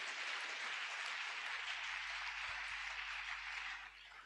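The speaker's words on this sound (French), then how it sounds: "Put your hands together for the word of God." A church congregation claps together, a dense, even wash of applause that carries on steadily and then quickly falls away near the end.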